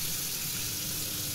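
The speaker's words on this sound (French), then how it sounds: "c'est un robinet, je mets de l'eau chaude" Hot water from a kitchen tap runs in a steady, close hiss, with no voices over it.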